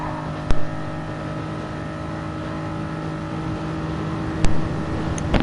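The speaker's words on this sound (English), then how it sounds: "I'll let you enjoy the turbo noise of this Toyota" A Toyota race car in a racing video game, a steady droning engine and turbo whine held at a constant pitch, with a couple of brief sharp clicks.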